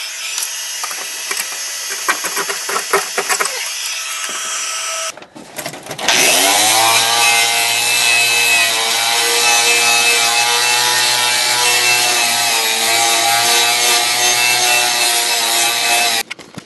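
Harsh scraping on a car crossmember during restoration of a Duster, a short choppy scrape followed by a long, loud, sustained grinding rasp with a steady low hum underneath, close up and alone.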